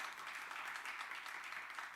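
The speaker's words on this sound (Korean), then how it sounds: "우리 교수님 나올 때 우리 환영의 박수 한번" Welcome applause from a church gathering audience greeting a seminary professor, a soft, fairly distant wash of steady clapping lasting a couple of seconds with no speech.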